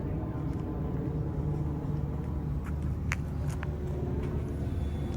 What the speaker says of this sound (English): we have an E85 startup on this V8 M3